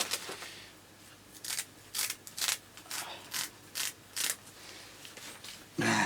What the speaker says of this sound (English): And we cut all the fins off.